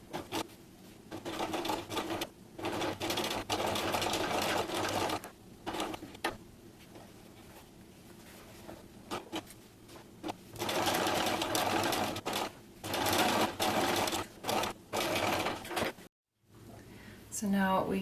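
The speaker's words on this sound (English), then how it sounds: "Now we're going to sew along the edge of the zipper" A sewing machine fitted with a zipper foot stitches along the edge of a zipper on a fabric pouch, running in loud rapid bursts separated by short pauses, with a voice speaking at times.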